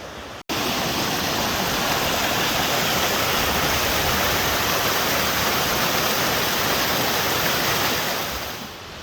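McKenzie Falls in Halls Gap pours a constant, loud roar of falling water close by, a dense unbroken rush that holds steady for nine seconds after a brief dropout at the start and eases slightly at the end.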